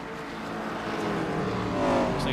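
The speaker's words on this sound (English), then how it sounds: "Pace car picking up the field on the back straightaway." Race cars bunched behind a pace car roar down the back straightaway at Talladega during an IROC Challenge Series All-Star race, a steady, dense engine drone that swells slightly near the end.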